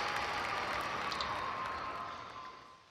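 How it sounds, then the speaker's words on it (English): A large crowd cheers and applauds in the video game Tropico 4, a dense sustained roar of clapping and voices that gradually fades toward the end. "Large cheer."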